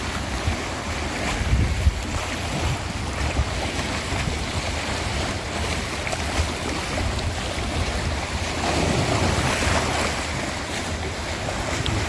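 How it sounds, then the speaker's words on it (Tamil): Water rushes forcefully from the outlet of the Amaravathi dam power house, a loud, continuous roaring wash with heavy spray and wind buffeting the microphone throughout. "தண்ணி தெரிக்குது பாருங்க, வர்ற ஃபோர்ஸுக்கு எவ்வளோ வேகமாக வருது பாருங்க."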